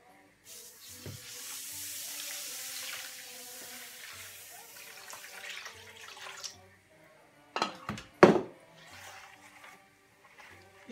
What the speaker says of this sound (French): Carrément le couvrir avec de l'eau, donc le rincer et l'égoutter.